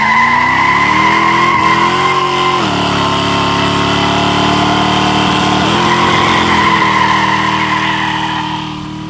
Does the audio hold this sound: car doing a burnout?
yes